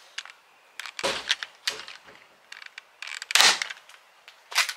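Several sharp pops from an Adventure Force foam dart blaster, fired one at a time with uneven gaps, close and fairly loud, with two stronger bursts standing out among quieter clicks.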